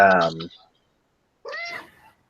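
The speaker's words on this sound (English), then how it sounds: "she is a talkative cat" A house cat meows twice, a loud drawn-out meow followed after a short silence by a shorter, rising one, both close up.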